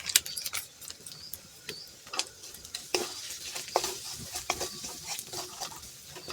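Ground spices, including turmeric and Kashmiri chili powder, fry in oil while a utensil stirs and scrapes the pan, producing quick repeated taps and clinks over a faint sizzle.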